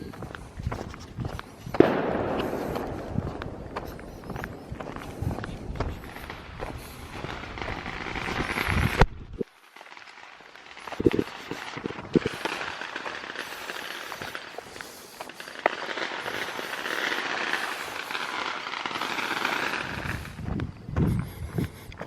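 Fireworks going off at a lakeside in the evening, with sharp bangs and crackling bursts scattered through the whole stretch, some loud and close, others more distant, plus a short quiet gap partway through.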